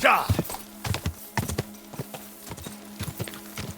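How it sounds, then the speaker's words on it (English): A horse galloping in the video game Kingdom Come Deliverance 2, rhythmic hoofbeats pounding steadily and close, with a voice talking over parts of it. "That fucking horse went 0 to 60 in like 2 seconds."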